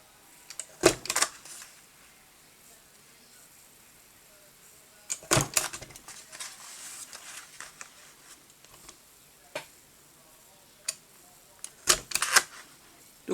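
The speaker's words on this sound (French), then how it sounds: "Donc on reperfore exactement dans les mêmes orifices." Sharp mechanical punching clunks of a hole punch perforating paper, two or three heavy clusters separated by quiet gaps, with a few lighter clicks between them, close and distinct.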